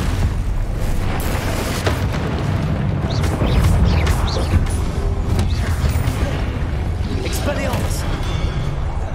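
Confringo blasting spell fired during combat in Hogwarts Legacy, a dense, rumbling wash of booming impacts and crackling bursts layered with battle effects and a speaking voice, continuous and loud across the whole stretch.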